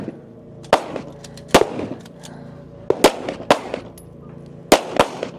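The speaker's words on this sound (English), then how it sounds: "With those pistol shots, those are going to be the itty bitty, teeny tiny targets." Pistol shots on a women's elite stage at the 2025 Nevada Regional shooting competition, about six sharp cracks spaced irregularly at moderate distance, with faint steel-target pings after some and low background noise.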